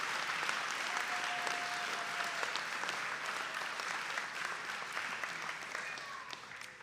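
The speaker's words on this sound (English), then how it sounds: "how about another round of applause in thanking all of our speakers today" Sustained applause from a large audience at a university opening convocation for the class of 2030, a dense, even roar of clapping that holds steady and slowly eases off, with a faint voice underneath.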